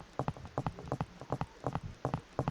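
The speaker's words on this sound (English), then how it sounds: "You can hear the footstep sounds," Rhythmic footsteps of a third-person character in a Unity3D mobile shooter game, close and distinct, with crisp hoof-like clops in a steady walking-to-running cadence and no talking.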